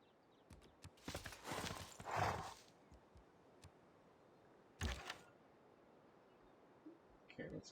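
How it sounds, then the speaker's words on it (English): Horse unit hooves clopping in the strategy game Civilization VI, a few short bursts of clip-clop spread apart over faint background, with a loud cluster early and another brief burst later. "let's get that horse up and in position"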